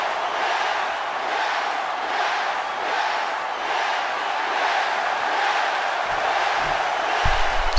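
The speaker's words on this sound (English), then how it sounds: "Just listen to that crowd lighting up the arena with yes chants." A dense arena crowd in the WWE 2K16 wrestling game chants "yes" in a steady rhythmic pulse, loud and continuous throughout.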